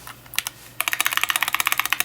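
Rapid typing on a keyboard with premium mechanical switches: a few isolated keystrokes, then a brisk, even run of crisp clacks, close and loud, with no talk.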